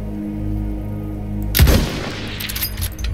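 Gunfire in the video game Battlefield 1: a low rumbling drone gives way to a sudden loud blast, followed by a dense crackle of further shots and explosions.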